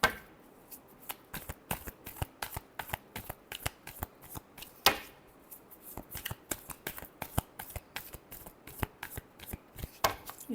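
Tarot cards shuffled by hand in repeated riffling bursts, crisp close flapping and snapping, two main shuffle runs with a slap between, no talking.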